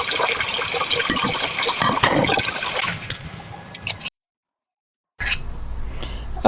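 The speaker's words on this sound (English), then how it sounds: "And then go ahead and strain the noodles." Boiled noodles are poured into a strainer, water gushing and splashing steadily for several seconds, then a brief silence before a softer trickle resumes.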